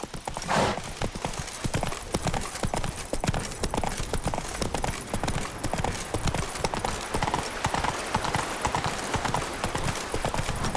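Geralt's horse Roach trots in The Witcher 3, its hooves clip-clopping in a quick, steady rhythm close by, with a brief whinny near the start and game ambience underneath.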